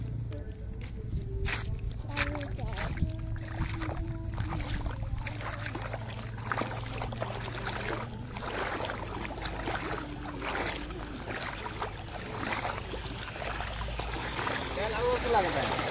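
Floodwater runs over a bridge outdoors with a continuous rushing, trickling wash. Vehicle rumble, footsteps and people talking sound over it.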